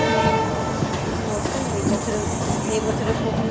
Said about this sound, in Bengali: দেখো রেলগেটে দাঁড়িয়ে আছি, ট্রেনটা যাচ্ছে